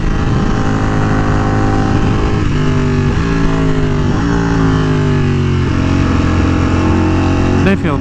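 A Ducati Panigale V4R with an almost full carbon-fibre build runs steadily, its engine note sliding through several gear shifts over about eight seconds, loud and close, with a rider talking over it.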